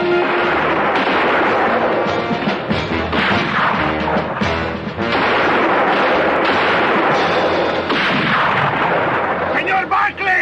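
Rifle gunfire in a western drama, loud repeated shots and crashing impacts filling the scene, with shouting voices and music mixed underneath.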